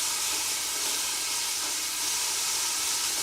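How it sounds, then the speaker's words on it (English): Vegetables sizzle in a pot in a teaching kitchen, a loud, continuous, steamy hiss with no pauses and no talking. "You hear that sizzle?"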